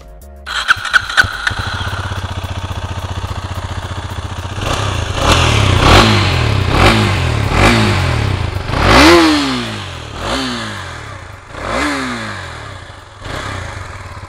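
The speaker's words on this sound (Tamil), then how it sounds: "நான் வந்து எக்ஸாஸ்ட் நோட் உங்களுக்கு காமிக்கிற பாருங்கள்." A Husqvarna Svartpilen 250 motorcycle cranks with a few starter clatters, catches, then settles into idle before a series of sharp throttle blips rise and fall, each rev swelling loud and close with a rasping exhaust note.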